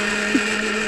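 A kitchen mixer grinder runs with a steady, loud motor whine and hum that holds unchanged throughout.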